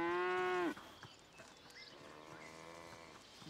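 A cow gives a loud, close moo in the African hills, then fainter lowing from the herd follows further off.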